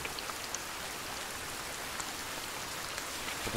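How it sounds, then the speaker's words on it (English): Steady rain in the Sons of the Forest game, a soft even hiss of falling drops with occasional faint patters, constant and moderately quiet throughout. "And it's raining?"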